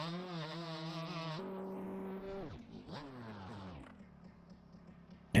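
A motorbike engine in MX Bikes, a 125 ridden hard, revs high and bounces repeatedly off the rev limiter in a stuttering, pulsing whine. Pitch drops and climbs back a few times, then it settles to a lower drone with no voices.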